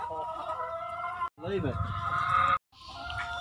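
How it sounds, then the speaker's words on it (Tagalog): Chickens clucking on a small farm during egg collecting. The soft, steady clucks run close by under a person's voice and the noise of handling, with two short quiet breaks. "She's looking at the chicken."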